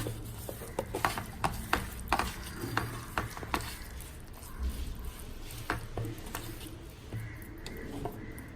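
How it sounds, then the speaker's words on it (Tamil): Quail pieces being mixed by hand with curd and masala marinade in a bowl, giving soft repeated squishing and stirring sounds with occasional light clicks of utensils, close and fairly quiet throughout. "கொஞ்சமாக தயிர், எல்லாம் ஒன்றா மிக்ஸ் பண்ணிட்டு"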